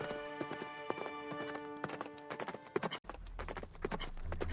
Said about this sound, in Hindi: राजकुमार चंद्रकांत तुरंत दाईं तरफ दिशा की ओर अपना घोड़ा लेकर आगे बढ़ गया